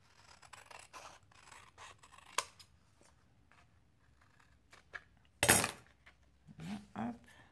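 Scissors snip a paper flap for a handmade photo album, giving a few short, close crisp cuts and rustles among soft handling sounds, with one louder sharp burst near the end.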